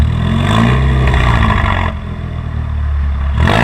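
A Volkswagen Mk6 GTI with a catless, straight-piped exhaust revs loudly up close, its raspy roar rising and holding, dipping briefly and then surging again, with no voices.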